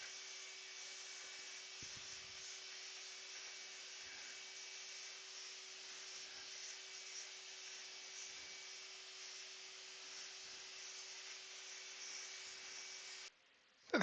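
A vacuum cleaner hums in a thin, steady, fairly quiet drone while cleaning dust off a natural-edge wooden Mallee burr bowl, running evenly for about thirteen seconds before cutting off, with no voices.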